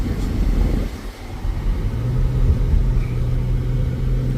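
A BMW X5 E70 SUV driving slowly around a residential block, steady low engine rumble and road noise from inside the cabin, a brief dip then a mild rise as it pulls along.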